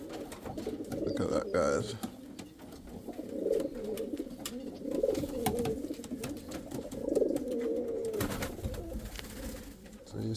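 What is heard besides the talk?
Indian fantail pigeons cooing and squeaking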